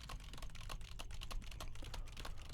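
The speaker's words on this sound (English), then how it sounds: "Let's go ahead and do some typing on the keyboard." Typing on a computer keyboard, picked up by an MXL 990 condenser microphone: a steady run of quick, soft key clicks at a moderate pace, faint and close, with no talking.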